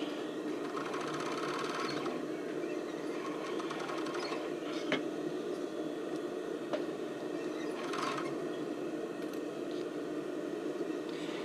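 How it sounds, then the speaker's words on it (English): A sewing machine stitches the neckline of a sports bra, running as a steady, continuous mechanical whir and clatter for the whole stretch, close and even, with no talking. "I'm going to sew my neckline first."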